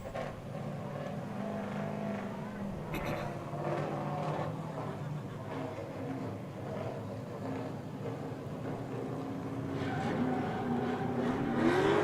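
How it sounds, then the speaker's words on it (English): A drift car's engine roars on track during drift challenge qualifying at LS Fest West 2025, a sustained loud growl with rising revs and a sharp burst near the end. "The car sounds like an absolute beast."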